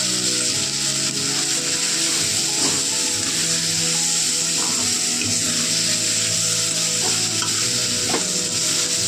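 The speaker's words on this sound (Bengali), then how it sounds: "যুক্তি ফুলগুলো দিয়ে ভালো করে ভাজা ভাজা করে নেব" Continuous close sizzling as yukti flowers fry in a pan, with the scrape and clack of a spatula stirring them at intervals, steady and loud with no voice.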